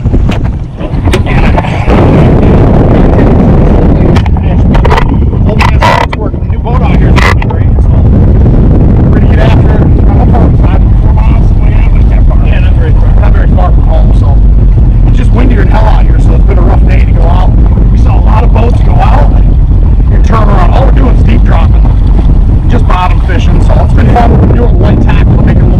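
Strong wind buffets a fishing boat off the Florida Keys, a loud continuous rumble battering the microphone with gusty bursts throughout, and a voice speaks intermittently underneath.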